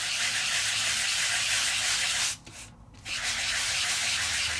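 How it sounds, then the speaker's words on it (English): Continuous rough scratching of sandpaper rubbing back and forth on paper, close and steady, with a brief pause in the middle before it resumes. "I tend to rotate my paper as I'm sanding"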